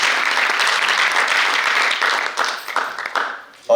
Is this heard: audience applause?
yes